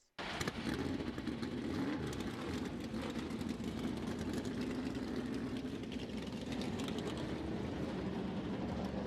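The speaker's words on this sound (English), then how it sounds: "Drivers, start your engines!" NASCAR race car engines fire up together and hold a loud, steady, dense roar throughout, with no talking over it.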